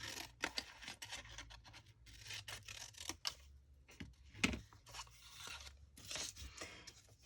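Scissors cutting through a paper bag for craft ephemera, a close series of quiet crunchy snips and paper rustles in irregular rhythm, no talking.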